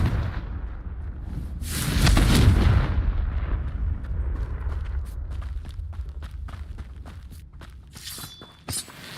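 A Confringo blasting spell explodes in Hogwarts Legacy, a loud broadband burst swelling around two seconds and then rumbling away into a long, fading low tail with scattered small crackles.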